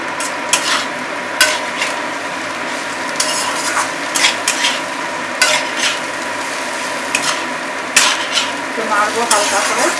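Chopped ginger, garlic, coconut, nuts, raisins and chilli for a pulao being stirred in a hot pan make a steady sizzle with repeated spatula scrapes and light clinks, loud and close, with no speech.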